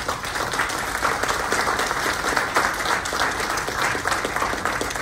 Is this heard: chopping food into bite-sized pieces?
no